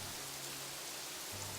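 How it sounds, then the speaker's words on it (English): Steady broadband rain hiss fills the whole stretch in the Kingdoms and Castles city-building game, an even wash of falling rain with a low hum underneath and no voices. "that rain was kind of loud"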